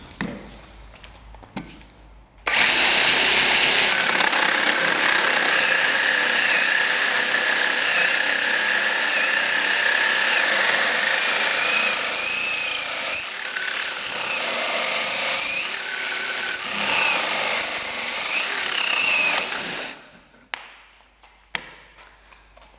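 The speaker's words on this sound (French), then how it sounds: "On va démarrer avec un trou de scie cloche en 51 mm et je vous montre." A 51 mm RISS hole saw from a multi-construction hole saw kit bores a hole under power. Loud, steady grinding and cutting runs without a break for about seventeen seconds, then stops abruptly. Only faint handling noises come before and after.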